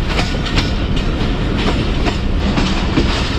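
Sialkot Express passenger train running on rails between Narowal and Dumala station, a steady loud rolling rumble with rhythmic clickety-clack of wheels over rail joints, close and continuous throughout.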